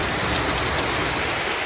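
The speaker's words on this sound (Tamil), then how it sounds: "இன்று பிற்பகலில் 1 மணி நேரத்திற்கு மேலாக கனமழை பெய்தது" Heavy afternoon rain pours down in a dense, constant roar of drops hitting surfaces, loud and close with no pauses and no voices.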